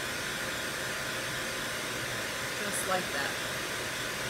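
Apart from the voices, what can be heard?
drying chalk paste with a dryer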